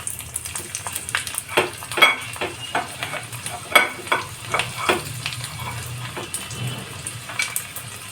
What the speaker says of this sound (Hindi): इसी में हम कटा हुआ लहसुन डालेंगे।